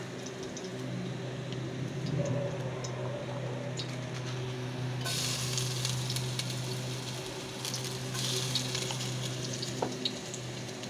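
Garlic sizzles steadily in hot cooking oil in a pan while chicken curry is cooked, a continuous close frying hiss with a brief louder crackle partway through and no talking.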